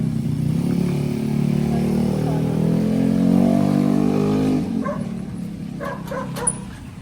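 A steady engine-like drone fills the first seconds, then a dog yips and barks several times in short, sharp bursts.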